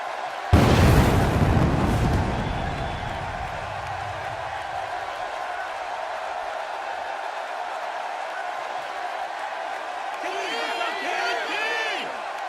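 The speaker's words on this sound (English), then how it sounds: "listening to the reaction this guy gets from a crowd never gets old" Big arena crowd roaring for the wrestler Kane's entrance in the WWE 2K16 game, opening with a loud explosive boom of pyro, then a sustained loud cheer that holds steady throughout, with a brief brighter swell near the end.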